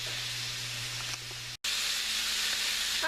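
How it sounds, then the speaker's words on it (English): Pork and garlic searing in a hot pan, a close steady sizzle and hiss that cuts out for an instant and then returns a little louder. "I turned up the pan to help like sear the meat a little bit."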